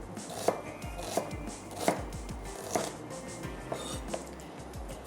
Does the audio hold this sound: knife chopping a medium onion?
yes